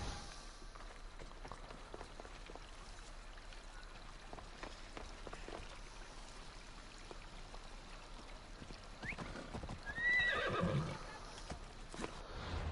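A horse's hooves clip-clop quietly in a steady rhythm in the video game Assassin's Creed Odyssey, with a short whinny rising near the end over soft ambient noise.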